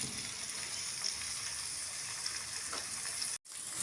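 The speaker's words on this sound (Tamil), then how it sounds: "வெங்காயம் சேர்த்துட்டு நல்லா கலந்து விட்டுக்கோங்க. நல்லா வதங்கணும்." Onions sauté in oil for brinjal thokku, a continuous moderate sizzle with occasional stirring scrapes before a brief sharp drop near the end.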